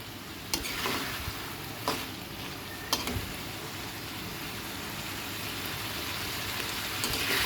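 Spiced meat with garam masala frying in a pan, a steady close sizzle with occasional stirring clatters over a constant hiss.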